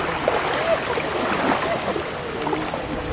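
Ocean waves wash onto a white-sand beach at Pantai Pasir Putih, Cilacap, Central Java. The surf makes a steady, moderately loud rushing hiss with some wind throughout, and no voices are heard.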